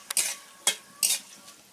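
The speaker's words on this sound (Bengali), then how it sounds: "এদিকে আমি বাদামটা ভাজছি" Peanuts dry-roasted without sand in a clay pan, stirred in three quick scraping, rattling strokes with a faint sizzle between them, close and quiet, no voices.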